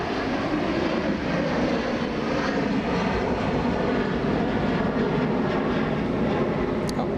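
A United Airlines Boeing 757 jet moving at Los Angeles International Airport, a loud, steady engine roar and rumble sustained throughout with no talk.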